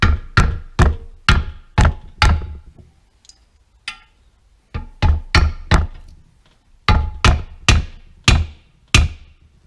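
A hammer knocks a main bearing cap down into the engine block of a Renault Clio 182 Cup during a rebuild: sharp, loud metallic taps in three bursts of about five or six quick blows each, with brief pauses between.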